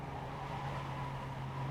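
A race car running alongside on the right at Watkins Glen International in iRacing, a steady engine drone with a constant hum holding level through a short stretch, heard from inside a Jetta TDI.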